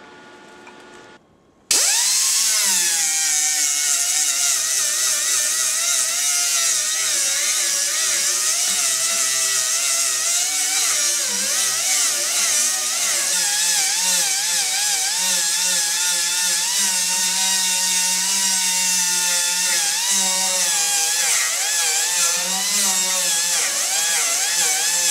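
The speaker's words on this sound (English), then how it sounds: "I'll just leave that to cool again and then I'll grind that piece off smooth." A grinder works steadily on a MIG weld, grinding it smooth with a high, sustained whine that wavers slightly in pitch as pressure shifts, loud and continuous after a brief quieter start.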